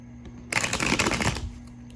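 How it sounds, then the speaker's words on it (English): Oracle cards being shuffled, a single quick burst of crisp riffling flutter lasting about a second against a quiet steady hum. "kind of do like a little shuffle"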